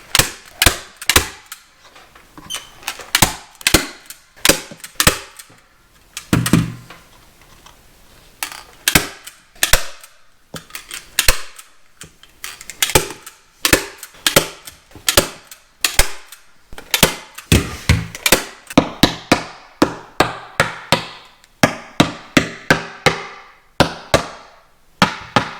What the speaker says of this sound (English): Just wrap it around, pull it over, and staple it down.